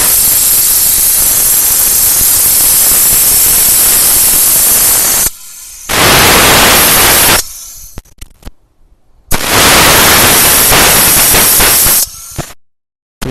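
A handheld vacuum brake bleeder draws brake fluid through a hose, giving a loud, harsh, continuous air hiss that stops and restarts several times, with short quiet gaps in between.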